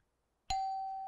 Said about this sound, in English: you'll hear one chime.